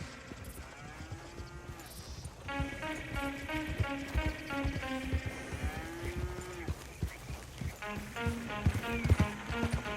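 Horse hooves clip-clop at a steady riding pace in the Western game Red Dead Redemption 2, close and rhythmic under a bed of orchestral game music.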